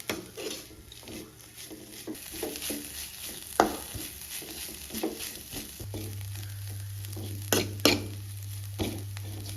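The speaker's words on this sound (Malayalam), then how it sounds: "ഇനി ഇതിലേക്ക് തേങ്ങ ചേർത്ത് ഒന്ന് മൂപ്പിച്ചെടുക്കണം" Grated coconut roasts in a pan for a crab curry, with soft scraping stir strokes and light pan clatter over a low, steady background hum.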